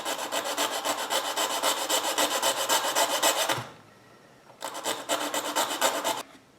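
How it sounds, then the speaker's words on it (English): Rapid rhythmic rasping strokes of a hand file shape a part to fit digital tail lights on a 1987 Oldsmobile Cutlass 442, with a long run of strokes, a brief pause, then a shorter burst close by. "after filing and fitting and filing and fitting, I actually got this thing to work"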